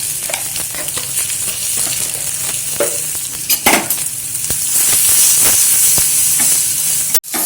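Finely chopped carrots and asafoetida sautéing in hot oil in a pan for curd rice, a loud steady sizzle with scraping stir strokes and a sharp clatter near the end, no talk.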